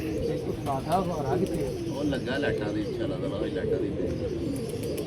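Pigeons coo in low, throaty repeated calls close by, with someone talking over them.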